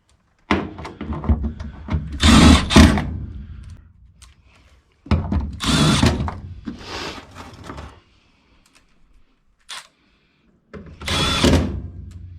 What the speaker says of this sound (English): Let's put the screws back in.